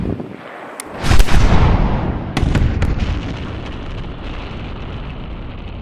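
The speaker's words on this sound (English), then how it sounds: "Let's do an AR-10. Good old 308." An AR-10 rifle fires a .308 round into bulletproof glass: one loud, close blast with a long rumbling tail, then a few sharp cracks, before the echo slowly fades outdoors.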